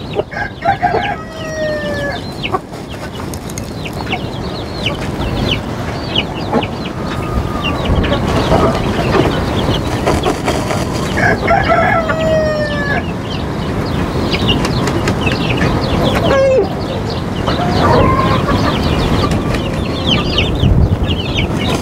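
Chickens in a coop on a farm cluck and squawk busily at close range, with roosters crowing repeatedly across a dense, continuous flock din.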